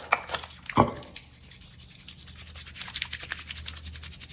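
Hands rub and lather homemade liquid hand soap made from scraps, without water, giving soft, close squishy rubbing and faint wet smacks, one sharper squelch near the start, no talking.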